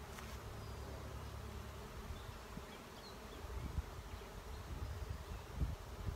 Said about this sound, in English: I looked out and there is a cloud of bees